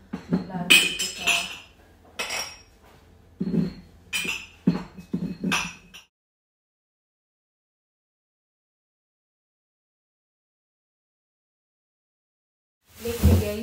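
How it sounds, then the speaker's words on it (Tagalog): Plates set down on a surface with sharp ceramic clinks, several short knocks in quick succession near the mic, mixed with someone speaking, then silence before a final clatter. "Lagay lang muna natin yung mga plato dito sa..."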